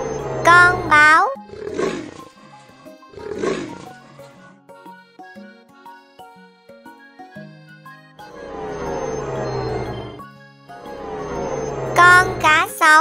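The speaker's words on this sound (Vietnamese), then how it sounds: "Con báo." A leopard roars in several loud, rough, drawn-out bursts separated by pauses, the later calls longer and more sustained. No one speaks.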